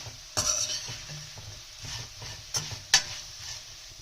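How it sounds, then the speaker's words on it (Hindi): Sindhi seyal maani frying in a pan over a medium flame: a soft, steady sizzle with a few sharp clinks and scrapes of a utensil against the pan. "इसको हम थोड़ी देर और फ्राई करेंगे। और इसका फ्लेम जो है मैंने मीडियम पे कर लिया है।"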